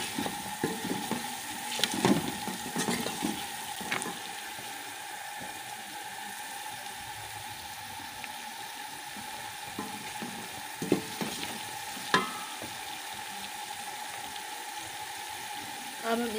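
Cabbage and peas frying with salt in a pan give a soft, steady sizzle, with a few stirring clatters early on and a couple of sharp knocks later, fairly quiet and alone.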